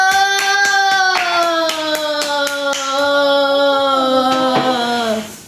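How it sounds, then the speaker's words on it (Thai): Hand claps in a family home with a child, struck in a quick, steady rhythm at close range over a sustained melodic tone, then tapering off near the end. "ดดี้มาแล้วขอเสียงปรบมือ"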